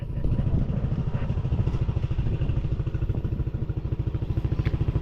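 A scooter engine runs steadily up close during a group ride, a continuous low, pulsing putter with rough clatter and no talk heard over it.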